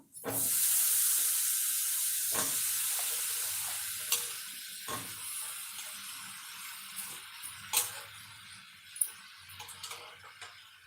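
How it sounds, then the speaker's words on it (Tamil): Elephant foot yam pieces dropped into masala in a pan, bursting into a loud sizzle that gradually fades, followed by scattered scraping stirs and clinks nearby, with no talking. "இப்போ கொஞ்சமாக காய் போட்டு வதக்கிடலாம்"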